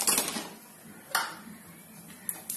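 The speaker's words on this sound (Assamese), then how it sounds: "মই প্ৰথমতে নাৰিকল অকণ অকণ ভাজি লওঁ" Grated coconut roasted over low heat in a kadai, giving quiet scraping and clinking of a spatula against the pan in a few distinct strokes over a faint background, with no talking.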